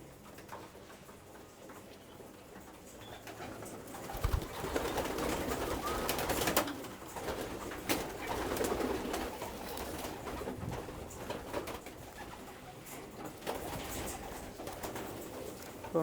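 Breeding pigeons in a loft coo in low, repeated murmurs, joined by occasional wing flutters and light scuffling, with the sound swelling and easing over time.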